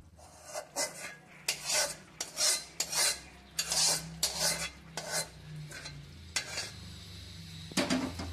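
A spoon stirs masala into nearly cooked rice in a pot for egg biryani, scraping in repeated bursts of close metallic rasping with short pauses between strokes.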